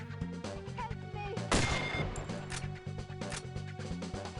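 Gunfire in the N64 game 007: The World Is Not Enough, a prominent shot cracking out over a steady tonal music bed, with softer repeated shots around it.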